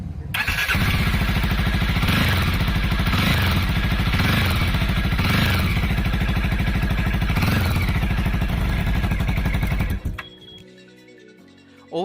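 A Jawa 42 motorcycle idles loudly through its twin silencers, giving a steady, thumping exhaust note with a rhythmic pulse and a few swells, close by, before it cuts off near the end.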